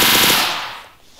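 A short burst of machine gun fire from the Roblox Military Tycoon video game, loud at first and then fading out over about a second.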